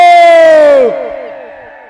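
A spectator's battle cry at a village kabaddi match between Kalsian and Fatehgarh Channa in Aspal Kalan, Barnala: one loud, long, close shout with a falling pitch, breaking into fainter yells and crowd noise.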